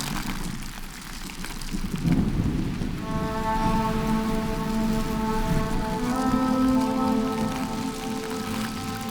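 A thunderstorm with rain in a prehistoric forest setting: constant heavy rainfall hisses throughout while a deep rumble of thunder swells from about two seconds in and lingers under a droning, tonal hum.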